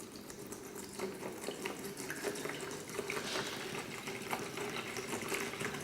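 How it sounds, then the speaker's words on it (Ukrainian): Spring water pours steadily into a container, a continuous splashing trickle heard faintly and close with no talking. "Беремо воду джерельну та заливаємо її в посудину."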